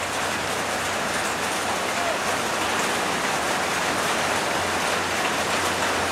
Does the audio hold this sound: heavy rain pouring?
yes